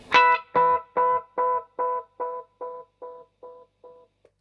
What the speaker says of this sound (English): So it just has that glitchy sort of tape-like sound